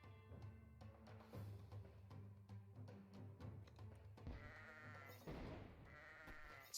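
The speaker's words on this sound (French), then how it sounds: "C'est plus dur à éclater les moutons" Cartoonish sheep bleat repeatedly in the tower-defense video game Kingdom Rush, layered over upbeat game music and steady battle effects, with a denser burst of noise near the end.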